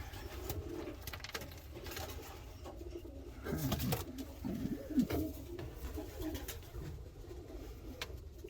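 Pigeons cooing in a small loft box, soft low throaty coos repeating irregularly at close range against a quiet background.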